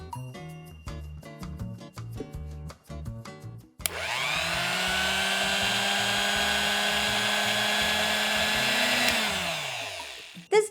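Music plays first, then a blender kicks on loudly to grind dry fruits and nuts with soy milk, a sustained high whirring roar lasting several seconds before cutting off.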